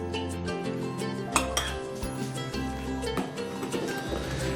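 Freezer pickle ingredients of sugar, cider vinegar, pepper and chopped dill being stirred in a bowl, with clinks and scrapes of utensil on dish and a few sharper knocks, close and steady.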